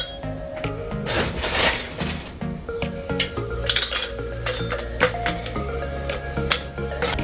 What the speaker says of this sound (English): grab your highball of choice. Fill it up with ice.